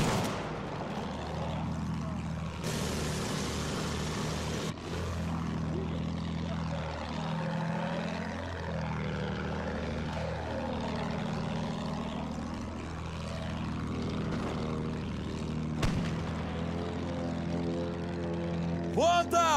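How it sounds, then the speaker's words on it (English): An attack plane in the World War I video game Battlefield 1 drones overhead with a propeller engine. It rises and falls as it passes near and away, over a steady combat background, with voices now and then. "They got an attack plane as well."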